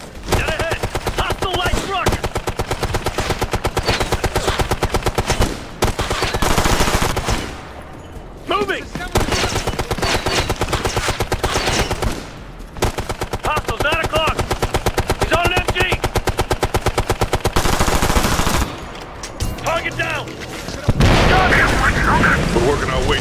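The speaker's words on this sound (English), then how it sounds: "Under heavy fire!" Automatic weapon fire from the video game Ghost Recon Future Soldier, loud sustained bursts of rapid shots broken by brief pauses, with in-game voices shouting over the battle.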